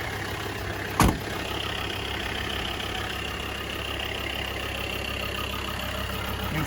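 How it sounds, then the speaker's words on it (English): Jeep Comanche with a swapped OM617 diesel idling steadily, a loose license plate rattling and jiggling against the body, with one sharp knock early on over the constant low engine drone. "That's my license plate jiggling on there."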